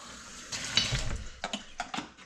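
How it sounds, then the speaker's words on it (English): Water is poured into a plastic protein shaker bottle, a short splashy gush of about two seconds that sounds close by. "put a little bit of water in there, 12 ounces"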